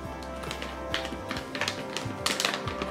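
A clear plastic package of coffee beans is popped open with close, crisp crinkles, taps and rustles in quick irregular bursts, with no speech.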